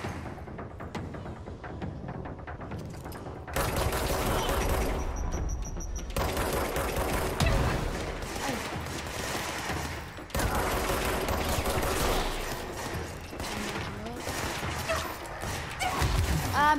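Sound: pistol gunfire in the video game Control

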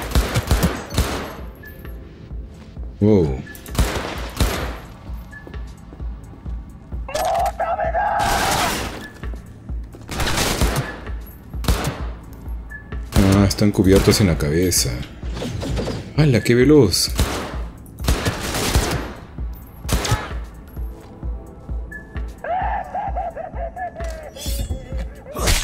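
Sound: gunfire in video game Cyberpunk 2077

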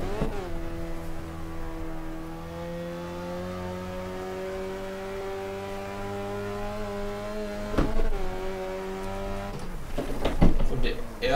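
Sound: race cars driving and drifting in video game Wreckfest

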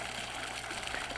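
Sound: aeration pump bubbling water in a pond

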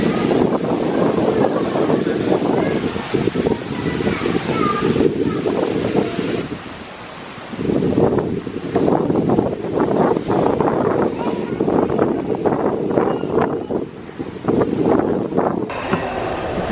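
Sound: wind blowing outdoors

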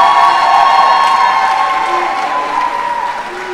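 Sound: audience applause at graduation ceremony

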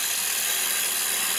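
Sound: light finishing cut with woodturning tool on lathe

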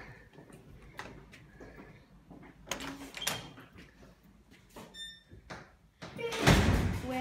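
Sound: apartment door opening

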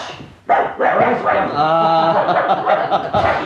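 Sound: dog barking

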